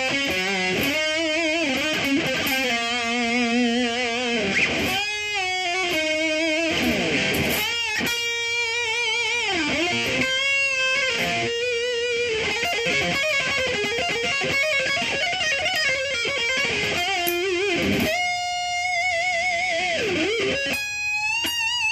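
Electric guitar with distortion plays a solo at full tempo, a continuous stream of fast runs, bends and vibrato-heavy held notes, loud and close with no speech.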